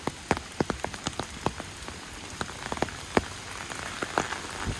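Steady rain falls on a surface outdoors in a yard near a creek, with a continuous wash of fine patter and scattered louder drops hitting close by, and no voices.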